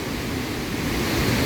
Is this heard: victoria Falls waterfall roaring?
yes